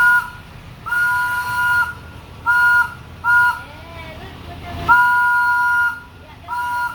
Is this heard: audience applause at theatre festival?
no